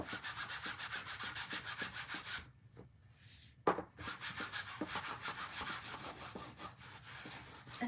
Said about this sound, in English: just lightly apply some surface wax